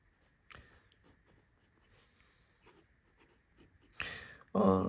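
Fountain pen with a medium nib writing on paper, a faint soft scratching close up, with a louder rustle and knock near the end.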